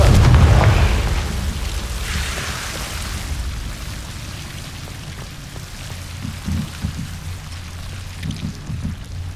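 A Confringo fire-blast spell in Hogwarts Legacy bursts loudly at the start, then decays into a crackling, rain-like rumble with scattered soft thuds over the following seconds.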